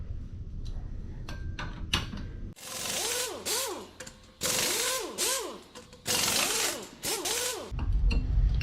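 A tool works against a Loctited bolt on a dirt bike's chain drive with bursts of ratcheting, whirring mechanical noise. The bursts come in several loud runs separated by short pauses, close up.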